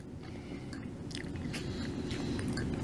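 Someone bites into and chews a Little Caesars cookie dough M&M brownie, close and moist-sounding, with a few sharp crunches from the candy pieces over a steady low chewing texture and no talking.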